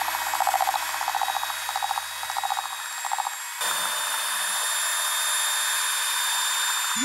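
An electric hand mixer beats homemade cake batter, a close, steady motor whir with rhythmic pulsing from the beaters, shifting midway to a higher, smoother continuous tone.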